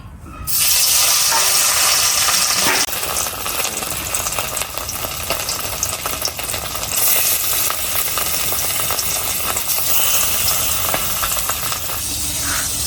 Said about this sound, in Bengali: মাছগুলো দিয়ে দিছি, ভাজা হইতাছে